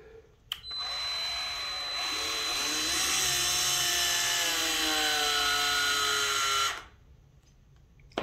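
A small SPTA cordless mini polisher with a polishing pad whirs loudly under barely any pressure, its pitch sagging and wavering as it bogs down and overloads, then cutting out abruptly after about six seconds; no voices.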